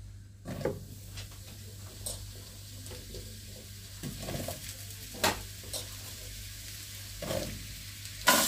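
Mushrooms fry in hot olive oil in a pan, a soft steady sizzle broken by several sharp clinks and scrapes of stirring against the pan.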